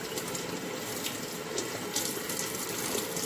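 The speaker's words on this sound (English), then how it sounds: "So I'm gonna finish washing these" Water runs steadily from a kitchen tap into the sink while vegetables are washed, a continuous close hiss with small splashes and no voices.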